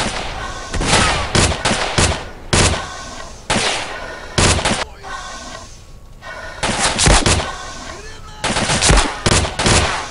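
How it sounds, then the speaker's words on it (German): Bursts of machine gun fire crackle loudly in the video game S.T.A.L.K.E.R. during an assault on a bandit base, with dense clusters of rapid shots separated by short gaps. "Klingt mir aber nach Maschinengewehr"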